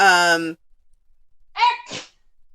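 A voice speaks briefly, then after a pause a single loud sneeze bursts out, close by.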